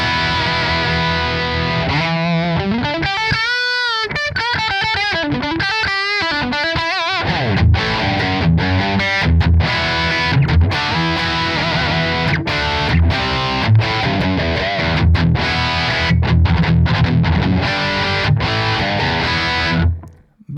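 A dry, high-gain guitar amp preset modelled on an SLO 100 clone: a sustained opening chord with swelling bends, then tight, driven chugging riffs at steady loudness that cut off at the end, with no talk.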